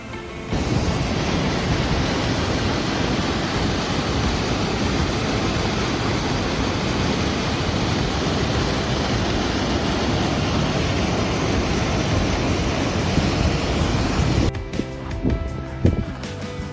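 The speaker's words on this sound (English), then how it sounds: "I'm hiking up to this little falls, I guess, like this little waterfall" A small waterfall in the American Northwest rushes in a constant, dense roar of falling water, close and steady, cutting off abruptly near the end.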